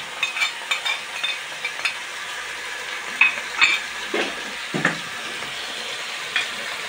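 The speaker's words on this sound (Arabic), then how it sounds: "ها هماكي نخلطوه" Spiced meat with red pepper, coriander, salt, hot pepper and cumin being stirred and mixed in a pot, a soft sizzle broken by irregular scraping and clattering stir strokes, close and alone.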